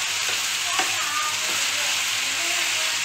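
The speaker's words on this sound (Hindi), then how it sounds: "थोड़ा लो करी फ्लेम में, हल्के हाथों से हिलाना है।" Amaranth leaf bhaji frying in a pan over low flame, gently stirred: a steady broadband sizzle throughout with a few soft scraping strokes of the spoon, close and fairly loud, no voices.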